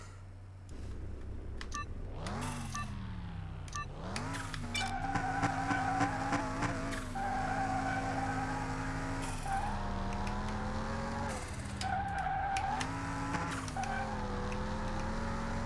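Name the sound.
race car turbo engine in video game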